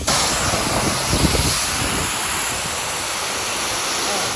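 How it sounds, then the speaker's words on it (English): A self-service car wash wand sprays rinse water at medium pressure, a steady, loud hiss and rush of water that is close and continuous throughout. "We can actually just take the high pressure pump jumper off, and then we'll get medium pressure, which is really what we want. Just rinse off there"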